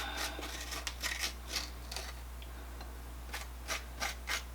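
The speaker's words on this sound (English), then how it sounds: "So have it all scraped out." Cooked spaghetti squash strands scraped out of the shell for a Southwestern-style bowl, giving several short raspy scrapes in irregular bursts, close and fairly quiet over a steady low hum.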